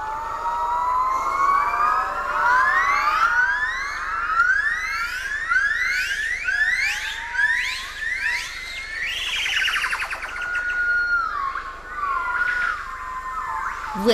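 Yellow-cheeked gibbons sing loud territorial calls in a Vietnamese forest, a sustained chorus of rising, whooping notes that climb and repeat in long sweeping series, building to an excited climax near the end.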